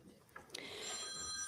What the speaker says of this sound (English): Oh, someone forgot to turn the phone off.